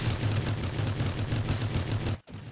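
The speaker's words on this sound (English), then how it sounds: "He was landing a whole lot of shots." Gunfire in the battle-royale game Rules of Survival comes as a dense, continuous stream of rapid shots with booming low thumps. It is loud and close, and it cuts out abruptly near the end.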